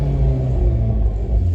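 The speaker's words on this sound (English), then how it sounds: "that exhaust that you hear back there" Deep, rumbling turbocharged exhaust of a 2021 Hyundai Veloster N with an 8-speed dual-clutch transmission and variable exhaust valve, a steady low-pitched idle drone close by, with no voices over it.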